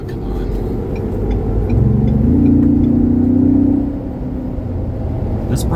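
A 2021 Ford Bronco's engine swells into a loud, rising acceleration roar for about two seconds before easing back to a steady cabin rumble, close and dominant.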